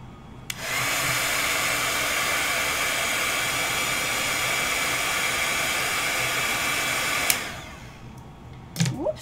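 A heat tool dries glitter glue on a paper rosette, blowing a loud, steady whooshing hiss for about seven seconds before cutting off, followed by a brief rustle.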